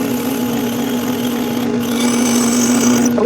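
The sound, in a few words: power drill drilling a hole in a clutch cable end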